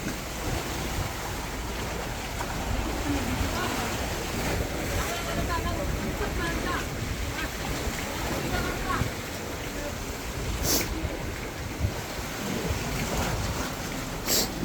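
Big waves crash against a low breakwater in a steady, loud churning roar of surf and wind buffeting the microphone, with voices speaking over the constant wash.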